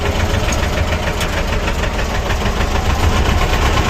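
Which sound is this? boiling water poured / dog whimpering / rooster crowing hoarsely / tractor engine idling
tractor engine idling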